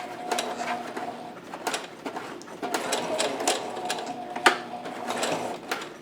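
A sewing machine runs steadily stitching a fabric face mask, its rapid needle clatter continuous and close, broken by a few sharper clicks.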